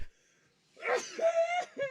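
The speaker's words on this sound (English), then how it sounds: "Hold on, I got to sneeze" A single sneeze bursts out after a short quiet pause, a sharp breathy intake followed by a voiced expulsion and a brief trailing sound, close and moderately loud.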